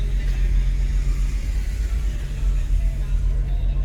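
A Chrysler 300C engine with its check-engine light on runs steadily, a low continuous rumble heard from inside the car, loud and even throughout with no talking.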